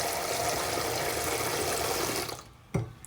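Water splashes steadily into a cooking pot as the soaking water for Jamaican salt fish is changed, a continuous close pouring and rushing that stops abruptly, followed by a single clunk.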